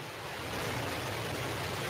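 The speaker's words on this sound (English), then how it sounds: "We have ignition of our BE-3 engine." A Blue Origin New Shepard rocket's BE-3 engine ignites at launch, heard as a dense, steady roar of broadband rumble that builds slightly in the first half-second and then holds, with no voices.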